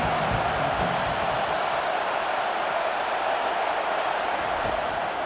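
A stadium crowd in the College Football 25 video game cheers with a broad, continuous roar that stays steady and fairly loud throughout, with no distinct voices.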